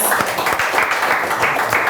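A show audience applauds during a prize giveaway, a brief dense burst of clapping that holds at a strong, even level from start to finish.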